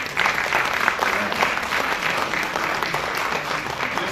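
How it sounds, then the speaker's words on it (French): An audience applauds after a medical conference on sickle cell disease, a dense steady round of clapping from a full room that holds for the whole stretch. "on peut les applaudir"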